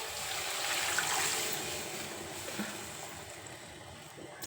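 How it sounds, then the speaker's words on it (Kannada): Water pours steadily into a container, a continuous close rush that slowly softens over a few seconds and ends abruptly. "ಇದಕ್ಕೆ ನೀರು ಹಾಕಿದ್ದೀನಿ."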